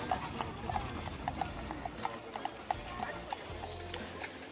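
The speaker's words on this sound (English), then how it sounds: "you can get a ride on a horse-drawn carriage from people in reenactment costumes" Hooves of a horse-drawn carriage clip-clop steadily along the main street of Colonial Williamsburg, an even rhythmic clatter at moderate distance over a low outdoor murmur.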